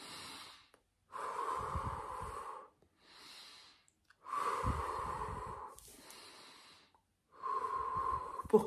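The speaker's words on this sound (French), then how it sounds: "On respire." Slow, deep breaths during a guided calming breathing exercise, alternating long inhales and exhales with short pauses between them, close and clear with no talking.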